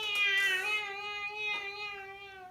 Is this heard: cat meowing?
yes